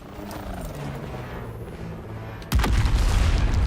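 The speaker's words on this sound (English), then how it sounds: "I'm gonna throw this nade directly at him" A thrown grenade goes off in the video game Dune: Awakening, a sudden loud blast that erupts midway and rumbles on through the rest of the clip after a quieter stretch of game ambience.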